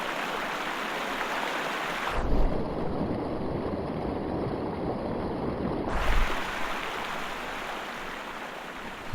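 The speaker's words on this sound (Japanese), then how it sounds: "水の音が相変わらずすごい。" In the Sherlock Holmes: Crimes and Punishments video game, water rushes loudly and steadily as a broad continuous roar that changes tone midway and then returns to its earlier sound.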